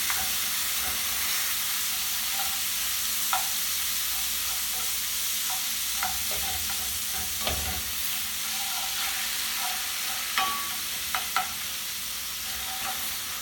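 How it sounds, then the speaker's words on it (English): Vegan scrambled eggs frying in a pan while being stirred, a soft steady sizzle with scattered spatula scrapes and taps, fairly quiet and without talk. "Give it a stir."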